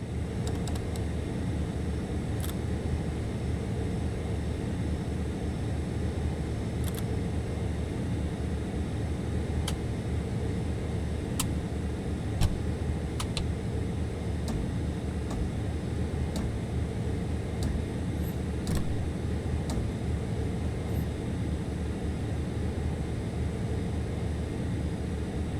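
Engines of the Black Square Beech Starship in the video game FS2024 throttle up in a steady, even broadband turbine roar, with faint cockpit clicks scattered over it.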